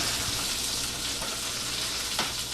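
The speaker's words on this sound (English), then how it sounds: "we use vegetable oil when we're pan frying the chicken" Chicken pan frying in vegetable oil, a steady close sizzle and crackle that stays even and bright throughout, with a few faint clinks and stirring sounds.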